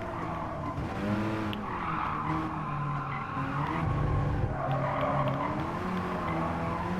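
Amemiya RX-7 FD3S rotary race car in Gran Turismo Sport, engine note rising and falling through gear changes with tires squealing and skidding, loud and continuous for the whole stretch.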